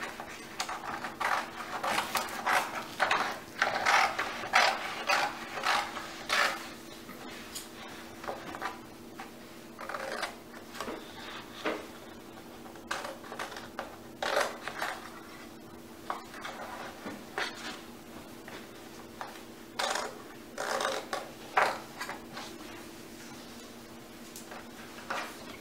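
Scissors cut through notebook paper in a quiet indoor craft activity. Short, crisp snips and rustles come in irregular bursts with pauses between them, close up and fairly soft, with no speech.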